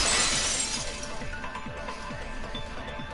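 A vase shatters in the Danganronpa 2 video game, a loud burst of breaking glass-like ceramic at the start that fades into scattered tinkling fragments, with no voices.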